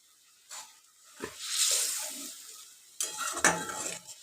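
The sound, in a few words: okra being stirred into spiced yogurt masala in pan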